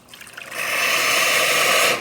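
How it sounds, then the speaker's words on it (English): Hot water dispensing from a Quickmill Vetrano espresso machine wand, rising in over half a second into a loud, steady, hissing flow that runs evenly to the end with no talk. "Hot water works well."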